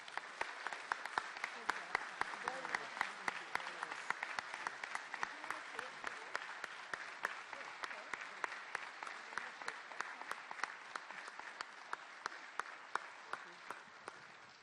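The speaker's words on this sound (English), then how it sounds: "So everyone, please join me in a round of applause for Paul McCann." A long round of applause fills a City of Ottawa environment committee meeting room, with many hands clapping in a dense, fairly distant patter that holds steady and only slowly thins out.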